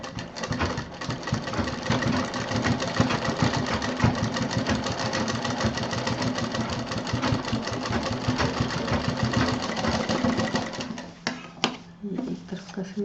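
A sewing machine runs steadily and close up for most of the clip, stitching the side seam of a beaded single clutch bag with ghungroo bells, then slows and stops briefly near the end.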